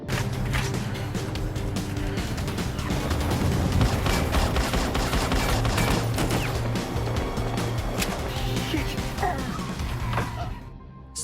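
Rapid bursts of gunfire and crashing impacts during a car chase in an action film ring out over loud, driving music, sustained and intense until it cuts off abruptly near the end.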